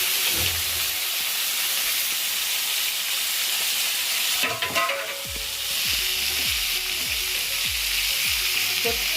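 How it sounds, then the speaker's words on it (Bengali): Oil sizzles and crackles steadily in a kadai, a loud continuous hiss with a burst of sharper spattering partway through. "প্রথমে কড়াইতে তেল ঢেলে দিচ্ছি, ডিমের ঝোলে।"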